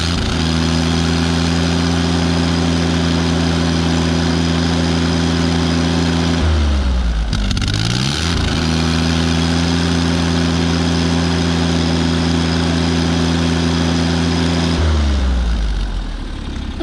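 John Deere 322 lawn tractor with a freshly repaired engine idling smoothly and steadily up close, with two brief dips where the engine speed drops and then recovers.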